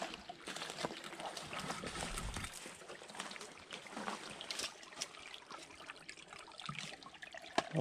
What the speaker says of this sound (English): I got down here in a little mossy creek.